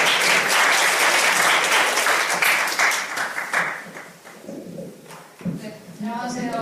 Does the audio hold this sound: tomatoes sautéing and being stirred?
no